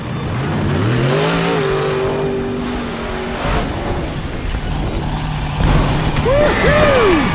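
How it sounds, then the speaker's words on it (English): A blue toy monster truck revving and jumping a ramp during a color-learning game, with a whining motor rising and falling in pitch, then a bump and rattle near the end. "Come on, blue truck, let's see your jump."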